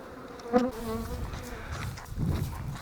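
Aggressive honey bees swarm around an open hive in an apiary, producing a steady, close buzzing drone that swells and fades.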